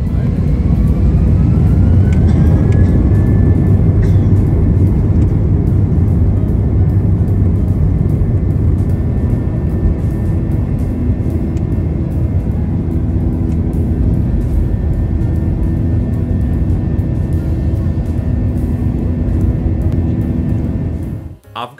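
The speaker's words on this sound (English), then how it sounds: "Ready for takeoff." Cabin of an Air China airliner during takeoff, a loud steady engine roar with a rising whine as thrust builds, sustained throughout and fading abruptly at the end.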